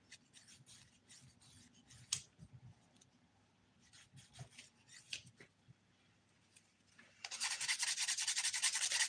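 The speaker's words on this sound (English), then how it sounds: "I'm also smoothing the nails where needed as I go through." Nails filed and smoothed during a dip powder manicure: soft, intermittent rasping strokes, quiet and close, then a sudden louder continuous buffing burst near the end, with no talk.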